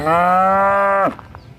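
A single long, loud moo from a nearby cow on an African farm walk, a steady tonal bellow lasting about a second before breaking off into quiet outdoor ambience.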